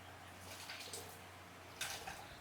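Water poured and swirled around a bowl with ground spice paste, faint splashing and sloshing in two soft bursts, quiet and close.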